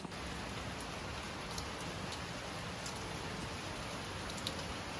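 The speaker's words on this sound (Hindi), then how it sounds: "बाहर हो रही है बारिश, मैं दिखाती हूँ अभी।" Steady rain falls outside on a monsoon evening, a dense even hiss of drops on surfaces at moderate distance with no voices, continuous throughout.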